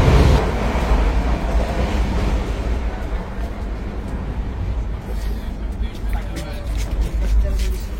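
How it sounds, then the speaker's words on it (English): A passenger train rolls onward after pulling out of Margao, giving a steady, close rumble from inside the carriage that lasts throughout, with faint voices in the background. "the train is like right on time and it has departed now"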